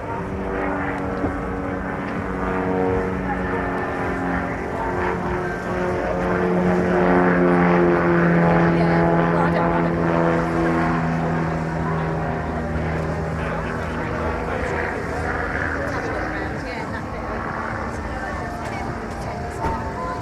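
Lycoming-powered propeller aerobatic aircraft performing at an air show at Halton, its engine a sustained, fairly loud drone that rises and falls in pitch as the plane manoeuvres, lasting the whole time.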